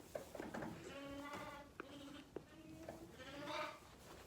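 Sheep bleating repeatedly in a barn on a sheep farm, several wavering calls of varying pitch, some overlapping, with a few sharp knocks between them.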